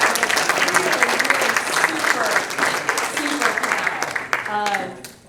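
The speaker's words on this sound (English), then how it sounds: "Let's have one more round of applause." Dense applause from a conference audience after an aviation industry panel, a full, steady wash of clapping that holds at the same level, then tapers off and ends abruptly.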